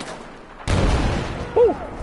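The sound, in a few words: explosion in a video game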